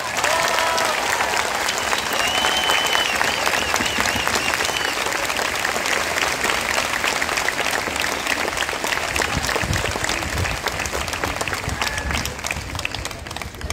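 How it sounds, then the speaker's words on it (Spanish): Loud, sustained applause from a large outdoor crowd at a graduation ceremony in Plaza Salvador Allende, dense clapping that holds steady and then thins slightly near the end, with some faint voices mixed in. "Hagamos temblar la Plaza Salvador Allende con un fuerte aplauso"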